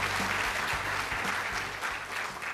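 Conference attendees at an ICT industry event give a sustained round of thanks applause after a speech. The thick, continuous clapping fills the hall, moderately loud and fading slightly toward the end, with no talking.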